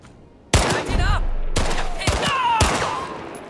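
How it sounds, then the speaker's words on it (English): Gunfire from shooting Nazis in the video game Indiana Jones and the Great Circle: four loud, sharp shots spaced about half a second to a second apart, each with a ringing tail and a fading echo, with no talk. "I'm just shooting Nazis."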